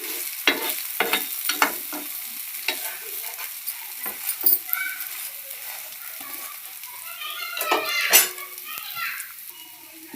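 Egg dosa fries in oil on a pan, giving a soft crackling sizzle punctuated by scraping stirs, while someone talks and children's voices are heard nearby.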